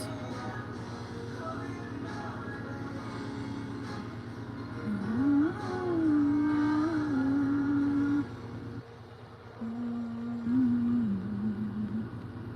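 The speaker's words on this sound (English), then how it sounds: "This little fucker is literally still outside of my house revving his engine." A car engine revs outside a house down at the road, heard faintly through the walls as rising and falling drones over a steady low hum.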